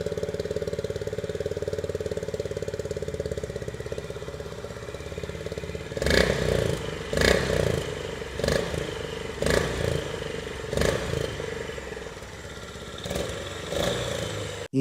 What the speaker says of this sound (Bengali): সবার আগে চলুন এর ইগনিশনকে অন করে বাইকের ইঞ্জিন ও এক্সস্ট সাউন্ডকে শুনে নেওয়া যাক